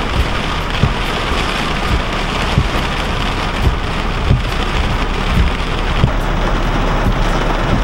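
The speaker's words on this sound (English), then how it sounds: "It seems to be a relatively small pop-up storm," Steady rain pours down during a small pop-up summer storm, a dense continuous hiss with scattered heavier drops and occasional low rumbles, close and fairly loud, with no voices.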